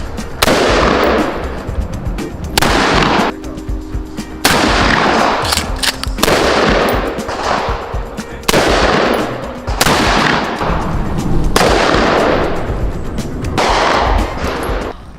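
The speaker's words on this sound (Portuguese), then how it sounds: "Agora a gente vai ver o casal atirando juntos" Handgun fire from a couple shooting side by side at a marked-distance police training range, a series of loud, sharp reports arriving in quick bursts of several shots with brief pauses between them, each crack ringing out with echo.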